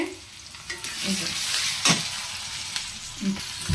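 Onion and garlic fry in oil for a dried fish curry, a steady close sizzle with a few soft scraping stirs and brief louder spits, no voices.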